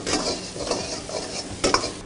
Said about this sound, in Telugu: ఇందాక మనం ఆయిల్లో ఫ్రై చేసుకున్న మష్రూమ్స్ ఆయిల్ మొత్తం పోయాక ఫ్రై చేసుకోవాలి. బాగా కలపాలి